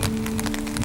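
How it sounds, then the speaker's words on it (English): Rain falling in a wood, a steady broadband patter with scattered drop hits and a faint low hum underneath, close and continuous throughout. "I'm walking through the woods in the rain"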